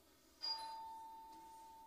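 A doorbell chimes once in a domestic setting: a sharp electronic ding followed by a steady, sustained tone that rings on and slowly fades, fairly close, with no talking over it.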